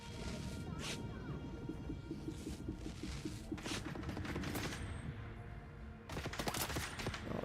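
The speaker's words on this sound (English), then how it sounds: "these guys are shooting from up there" Rapid bursts of enemy gunfire in the video game Dune: Awakening, dense crackling volleys over a rumbling backdrop, with sharper louder shots clustered near the end.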